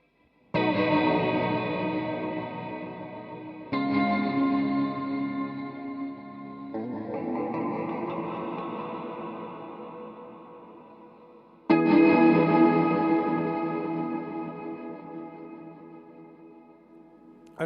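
Guitar strums pushed through a Cuvave 9 Type reverb pedal's flanger mode with the mix fully up, four sustained chords with pronounced jet-like sweeping and swirling, each left to fade before the next.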